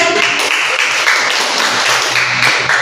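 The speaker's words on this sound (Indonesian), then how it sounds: "Oke, tepuk tangan untuk adik." Loud, dense clapping from a group rewarding a child during a classroom lesson, continuous and close throughout.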